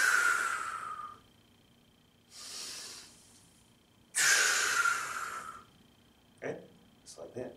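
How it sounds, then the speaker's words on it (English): Forceful breathing during a goblet squat, with long airy exhales and inhales in bursts across the clip, close and fairly loud, with a brief snort-like breath near the end. "On the up, I'm breathing out. So while I'm up here, I'm breathing in,"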